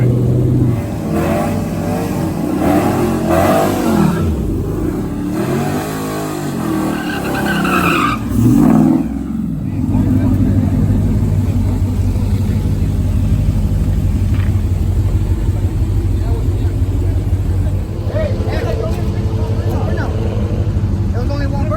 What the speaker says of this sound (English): There was only one burnout.